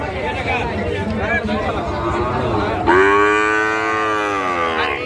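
A Sahiwal bull calf lets out a long, loud, drawn-out moo near the end, after a stretch of crowd chatter and talk at a cattle market.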